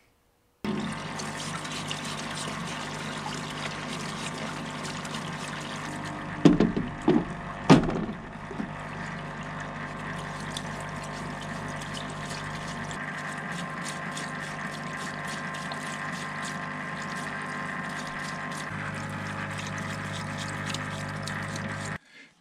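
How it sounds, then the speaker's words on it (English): Parts of an old 3-jaw scroll chuck are scrubbed with a flow-through brush, a steady rushing hiss of liquid pumping through the bristles with a few clunks and knocks as pieces are handled. "it was an opportunity to use that new flow through brush that I did just recently."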